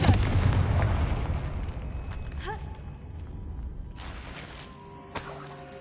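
Fire spell explosion in a wizarding video game, a loud booming blast at the start that fades out, followed by smaller magical effect sounds.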